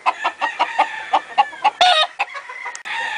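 Roundhead gamefowl chickens from a flock with hens cluck in a quick, steady series of close, loud calls, with one sharper squawk partway through.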